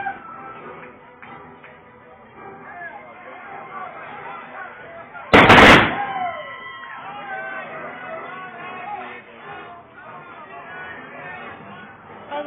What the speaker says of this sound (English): Oh, those gunshots scared me.